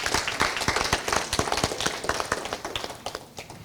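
Audience applause at a Bunyoro-Kitara Kingdom cultural dinner: a fairly faint spread of many hands clapping, with distinct sharp claps standing out, thinning slightly toward the end.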